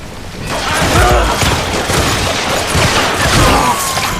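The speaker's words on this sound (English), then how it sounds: "The pistols we have here are the standard 6-shooters" Standard six-shooter pistols fire in the Western game Gunslinger, a quick run of loud, punchy shots with mechanical clatter, spaced unevenly across a few seconds.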